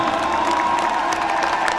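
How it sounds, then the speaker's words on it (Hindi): A crowd at an event in India cheers and applauds for Paras Lal, with dense clapping and shouts blending into a steady roar at even loudness throughout. "जोरदार तालियां एक बार पारस लाल जी के लिए"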